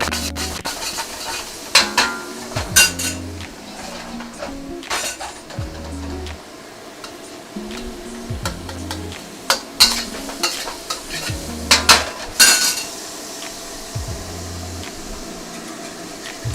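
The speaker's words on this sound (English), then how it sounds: "we're actually adding it to the side of our wok to make sure that we can bloom out some of those aromatics" Thai chilies sizzling in a wok for larb gai, a constant frying hiss broken by loud metallic clanks and scrapes of a spatula against the pan, close and busy with no talk.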